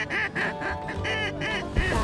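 Ducks quack in a steady run of short nasal calls, fairly close, with several birds overlapping and no talking, during a waterfowl hunt in British Columbia.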